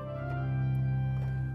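The swell console of a Taylor concert organ plays a sustained, rich chord with a steady pulsing tremolo, loud and close, without any talking.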